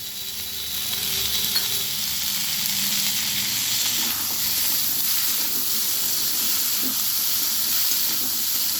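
Ginger paste sizzles steadily in a hot pan of oil while cooking a vegetarian banana-stem curry, a continuous bright hiss with faint crackles and occasional stirring scrapes.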